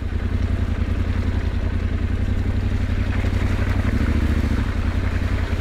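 A Yamaha Tenere 700 adventure motorcycle rides through mud on a ranch, its engine a steady close throbbing drone with clattering over it and no speech.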